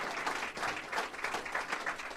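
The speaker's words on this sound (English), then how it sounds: "give him a big round of applause" Audience at a state budget signing event applauding the governor, a dense continuous round of clapping from many hands at moderate distance, steady throughout.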